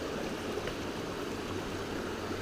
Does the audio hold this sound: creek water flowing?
yes